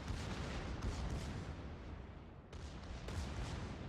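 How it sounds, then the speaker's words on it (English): The Bismarck's secondary guns fire repeatedly in World of Warships, booming salvos over a steady rumble of naval battle, with sharp blasts near the start and again around the three-second mark. "And the Bismarck secondary open up"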